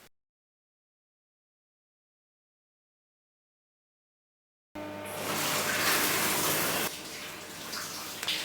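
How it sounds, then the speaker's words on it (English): Running water pours through hair during detangling, a steady close gushing splash like a tap or shower that starts abruptly after several seconds of silence and continues without speech. "detangling whilst you have running water going through your hair"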